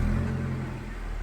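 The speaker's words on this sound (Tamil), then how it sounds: "வண்டி ஸ்டார்ட் பண்ணியாச்சு." A 2009 Hyundai i10 car engine idles steadily with a low, even hum and a faint whir, close by and continuous, with no voices.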